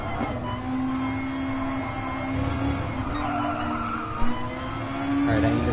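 Porsche 911 Turbo in a racing video game on the Nürburgring Nordschleife, engine droning steadily with tires skidding and squealing through corners, a loud continuous drone that swells near the end.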